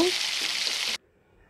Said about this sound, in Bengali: তাতে কিছু কাঁচা লঙ্কা কুচি ও রসুন কুচি দিয়ে পুঁই শাকগুলো ওপর থেকে দিয়ে দেব